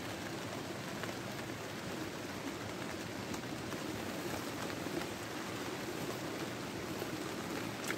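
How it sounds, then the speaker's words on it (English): Steady, dense rain pours down on a wild camping spot in Scotland, a constant even hiss with no breaks, heard from inside a hot tent. "Pouring with rain."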